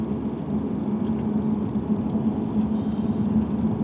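A Mercedes-Benz CLE 300 4MATIC Coupe cruises on an open road, giving a steady low hum of engine and tyre noise inside the cabin at moderate level, with no one speaking.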